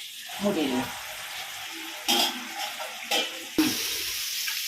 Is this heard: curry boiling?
yes